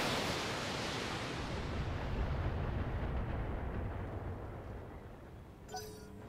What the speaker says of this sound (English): Let's just fire the LRM 20.